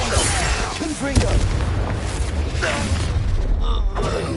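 A Confringo fire spell cast in Hogwarts Legacy: a booming magical blast with crackling bursts, mixed with a voice and combat effects throughout.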